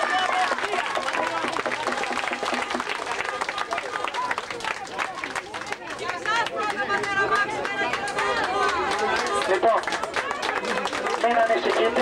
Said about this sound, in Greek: Ένα θερμό χειροκρότημα για όλους σας από μένα